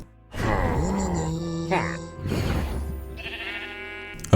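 A Minecraft evoker gives its drawn-out, nasal, villager-like "wololo" call in a video game, a wavering voiced cry followed by a sustained higher ringing spell tone.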